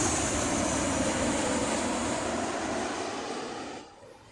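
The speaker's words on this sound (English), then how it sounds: "No, that was actually a Ryanair Boeing 737." A loud, close Ryanair Boeing 737 airliner roars past while landing, with a broad steady rumble and hiss, then fades quickly near the end.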